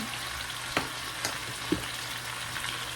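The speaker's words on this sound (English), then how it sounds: "I'm just sauteing them so they get like a little brown" Onions sautéing in a pan, a soft continuous sizzle with a few sharp utensil taps and scrapes against the pan, no talking.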